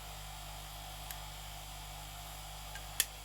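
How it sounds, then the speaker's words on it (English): A ceiling fan overhead gives a constant low electrical hum that drones on without change, broken only by a couple of faint clicks. "If you hear a humming noise, that's the fan up above me,"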